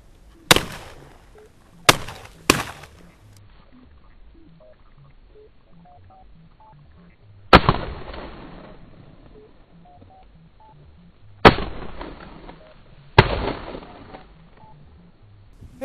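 Six sharp gunshots from a ptarmigan hunt in Guijaure, Sweden, ring out in the open, three quick ones close together and then three more spaced apart, each trailing off into a long echo.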